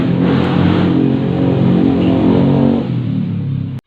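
A Honda Beat fuel-injected scooter engine warms up at steady idle, a close, continuous motor drone with a throaty low rumble that holds even for several seconds before cutting off abruptly.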